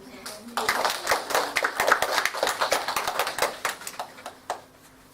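Audience clapping at a Sunday church service, a few seconds of scattered hand claps that swell and then thin out, with some talk underneath.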